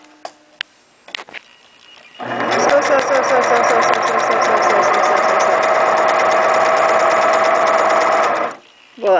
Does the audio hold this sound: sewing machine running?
yes